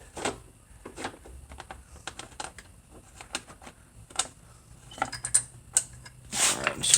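Phillips screwdriver turning a screw out of the chain guard on a Monster Moto 1000 during an electric-to-gas conversion, with repeated small ratcheting clicks and creaks in uneven bursts, close, ending in a louder rattle.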